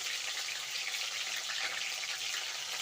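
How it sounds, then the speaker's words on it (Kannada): Mustard seeds and cumin crackling in hot oil for tomato gojju, a steady, fine, close-up sputter and sizzle with no pauses and no talking. "ನೋಡಿ, ಸಾಸಿವೆ ಎಲ್ಲ ಸಿಡಿದಿದೆ"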